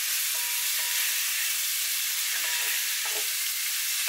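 Meat browning in one batch in a hot pan for Welsh lobscouse stew, a loud, continuous close-up sizzle and hiss with occasional faint stirring scrapes.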